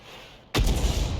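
A single loud artillery cannon blast from a 105 leFH18B2 self-propelled howitzer in a tank video game, erupting suddenly after a quiet lead-in and followed by a sustained rumbling boom and roll-off.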